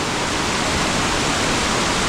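A waterfall in Washpool National Park pours in a steady, loud, broadband rush heard from close above the falls, with no voices over it.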